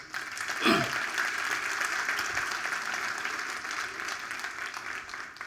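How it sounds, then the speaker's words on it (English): An audience at a talk on investing mindset and partnerships breaks into applause, a steady, full wash of clapping that swells early and holds to the end, with a brief vocal sound near the start. "why don't we give my parents and USA a big round of applause?"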